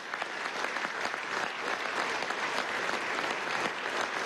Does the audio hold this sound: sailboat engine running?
no